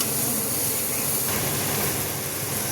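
Sambar masala with red chilli powder, salt and vegetable masala roasting in a pan for a home-cooked sambar, a steady, even sizzling hiss that holds at a constant level throughout, with no talk.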